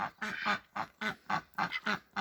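Domestic ducks kept at a country garden plot quack in loud, rapid, raspy bursts, about eight calls in quick succession, close to the listener.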